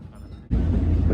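Commuter train running on the Yokohama Line in Japan: a low, steady rumble that abruptly swells into a loud, broad roar halfway through and holds there to the end.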